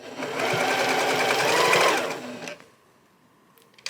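A sewing machine stitches quilting in one steady, fast whirring run of about two and a half seconds, then stops, leaving near silence with a few faint clicks.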